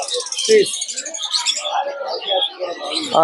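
Caged birds chirp and call at the busy Mirpur 1 bird market, a bright chorus of tweets running throughout over a crowd's background chatter.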